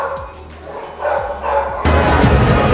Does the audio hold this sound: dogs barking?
yes